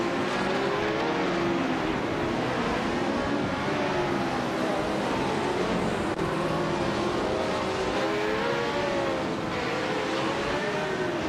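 AI-driven race cars lapping Sportsland Sugo in a racing game, a dense continuous roar of revving engines with shifting pitch as cars jostle, loud and unbroken for the whole stretch.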